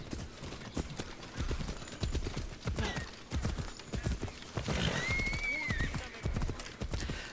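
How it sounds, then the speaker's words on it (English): Horses gallop in the video game Assassin's Creed Odyssey with rapid clip-clopping hoofbeats in an uneven rhythm, a whinny rising near the end, and a voice talking faintly underneath. "Oh, are we going to use horses?"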